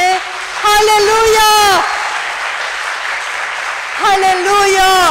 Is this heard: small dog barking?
no